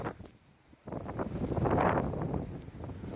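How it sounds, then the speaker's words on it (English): Strong wind on a mountain along the Appalachian Trail buffets the microphone in loud, rushing gusts that build and stay steady, with no voices. "it's super windy"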